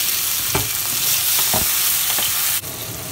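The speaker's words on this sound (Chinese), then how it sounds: "把西红柿放进去一起翻炒" Tomatoes being stir-fried with scallions in hot oil for a dough drop vegetable soup base: a steady close sizzle with a few distinct spatula scrapes and stirs, cutting off abruptly near the end.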